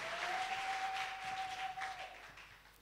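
A church congregation breaks into sustained applause and acclaim for God, a dense wash of clapping that holds steady and then slowly thins out, with a faint tonal note running underneath.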